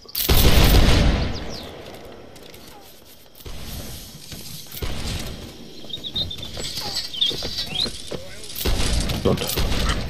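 A musket volley from line infantry in a historical war video game booms out in a loud burst at the start, followed by rolling, crackling gunfire and battlefield din, with a second loud burst near the end.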